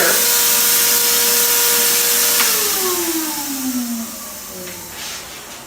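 Wagner paint sprayer for staining a fence, running at full power and blowing air through its nozzle: a loud, steady whooshing roar with a motor whine that drops in pitch midway as the unit winds down.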